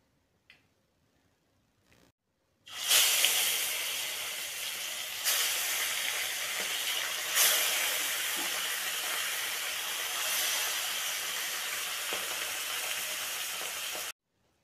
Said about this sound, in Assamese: এতিয়া মই কেৰাহীত তেল দিছোঁ আৰু মাছকেইপিচ ভাজি